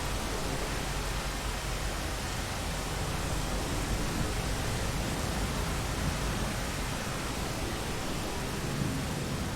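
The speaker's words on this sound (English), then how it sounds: "you gotta wait for the rain now" Steady, dense rain hiss from a storm in the video game Rain World, a loud, even wash of noise with a low rumble underneath and no talk.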